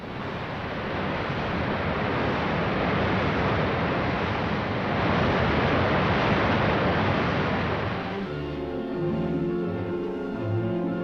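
Muddy, slime-filled flood waters rush in a loud, continuous broadband roar that swallows riverside streets and blocks, then shifts to a lower churning texture near the end.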